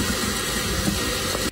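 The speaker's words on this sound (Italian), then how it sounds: "Prendo 180 g di quinoa e vado a sciacquarla subito." Quinoa being rinsed under a running kitchen tap, a steady broadband rush of flowing water lasting throughout, close and fairly loud, cutting off abruptly at the end.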